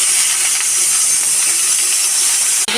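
Constant loud hissing sizzle of onions frying in a hot pan, bright and steady, briefly cut off at the end.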